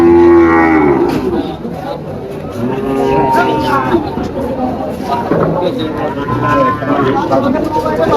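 At a busy cattle market, cows moo loudly and repeatedly nearby while people talk and a crowd murmurs throughout.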